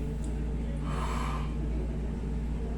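A single close, breathy yawn-like inhale swells and fades over a steady background hum, a person demonstrating a wide yawn for jaw (TMJ) exercise, with no speech over it.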